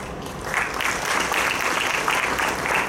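Audience applause fills a medical college white coat ceremony welcoming new MBBS students, a steady dense clapping crowd sustained for a few seconds with no voices over it.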